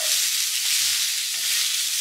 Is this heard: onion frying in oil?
yes